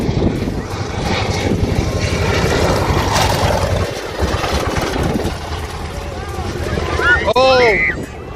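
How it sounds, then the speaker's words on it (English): A small airplane crash-lands near a beach among surfers at Cocoa Beach, its engine roaring loudly and steadily, then whining in rising and falling tones near the end, with people talking over it. "this man crash landed an airplane so close to the beach"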